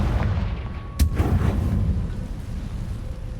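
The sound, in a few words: Confringo fire curse spell explosion in a wizard video game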